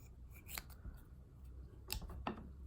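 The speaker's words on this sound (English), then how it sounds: "So I'm going to cut a section of straw" Scissors snip through a plastic drinking straw, giving a few quiet, close, crisp cuts spaced out over a couple of seconds in an otherwise still room.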